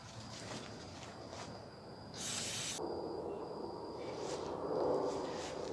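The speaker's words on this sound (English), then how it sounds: "so spray all of this out" A short burst of aerosol cleaner spray into a lawn mower carburetor hisses for under a second amid quiet background noise, then a softer ongoing hiss follows.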